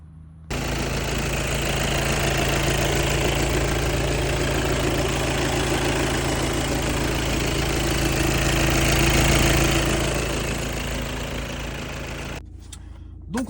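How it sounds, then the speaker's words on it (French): The 2.0 TDI diesel engine of an Audi A6 (phase 2) runs steadily at idle, a dense continuous drone close by that holds evenly for about twelve seconds and then cuts off, with no talk. "Donc on se retrouve pour l'essai routier de cette magnifique Audi A6."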